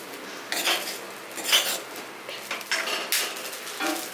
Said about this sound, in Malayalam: അപ്പൊ ഇളക്കിക്കൊണ്ടേ ഇരിക്കണേ